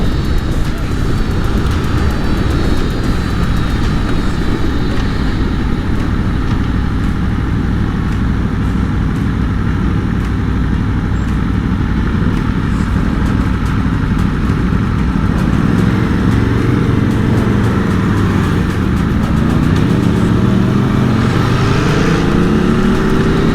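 An Aprilia Tuono V4 motorcycle engine drones loudly and continuously while being ridden, with wind buffeting and shifting engine pitch over the whole stretch and a rising rev toward the end.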